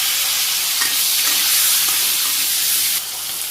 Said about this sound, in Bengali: এই যে মাছের ঝোলের জন্য আলু আর পটলগুলো দিয়ে দিতেছি